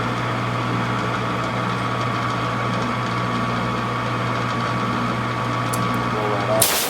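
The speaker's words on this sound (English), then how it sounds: "Shut the lathe off" A lathe runs steadily in a workshop during modification of a .451 Whitworth breech plug, a constant motor whine and hum close by, with a sharp clatter near the end.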